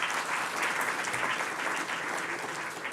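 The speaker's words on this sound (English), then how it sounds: "They equally deserve a round of applause." An audience at a university research and innovation awards ceremony breaks into sustained applause, a dense, even wash of clapping hands that fades slightly toward the end.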